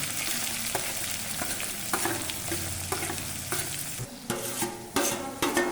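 Chopped onion sizzling in hot oil with cumin, a steady frying hiss under repeated scrapes of a spoon stirring the pan, close and clear, with no talk.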